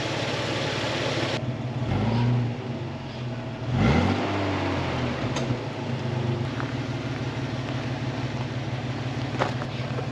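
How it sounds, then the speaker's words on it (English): A 30-year-old Ford Falcon engine with a hole in its muffler runs steadily nearby, a low continuous idle with a raspy exhaust note and a couple of brief revving swells, with no talking. "I thought it sounded like it had a bit of an exhaust note. Nope. Just a hole in the muffler."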